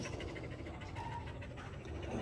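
A dog pants in quick, steady breaths with faint whimpering, close but quiet, and no talk over it.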